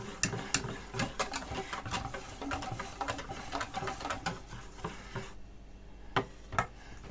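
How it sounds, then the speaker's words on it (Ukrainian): Pancake batter made without milk is stirred briskly after boiling water is poured in. Close, rapid, rhythmic tapping and clicking runs on, pauses briefly, then returns with a few last knocks. "швиденько заливаємо окропом. І добре це все розмішуємо."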